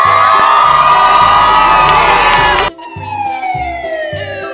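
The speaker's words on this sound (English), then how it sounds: "Police car." A police car siren wails loudly alongside cheering children's voices and crowd noise, then continues on its own as a rising and falling electronic tone over a repeating beat.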